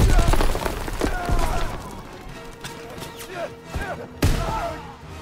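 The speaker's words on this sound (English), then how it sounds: "There we go, combat shotgun." A combat shotgun fires in the Call of Duty WW2 video game: heavy blasts land at about 0.1, 1.1, 1.5 and 4.3 seconds, each with a booming tail. Chaotic battle noise continues underneath, and someone talks throughout.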